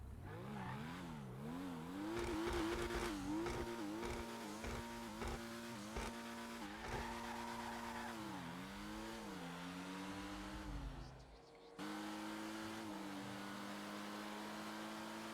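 A car drives fast in GTA 5 Online, its engine revving continuously with rising and falling pitch as it accelerates and shifts gears, loud and steady throughout.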